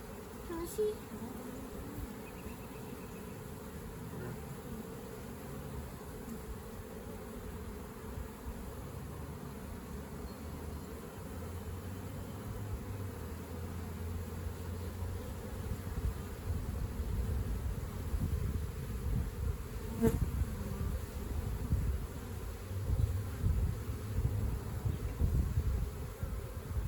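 Honey bees buzz continuously during a swarm trap transfer, a dense steady drone that thickens toward the end, with people talking quietly underneath now and then.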